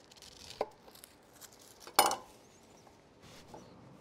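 Grilled corn being cut off the cob with a chef knife, a few soft scattered blade strokes and one sharper knock against the board, close and quiet with no talk.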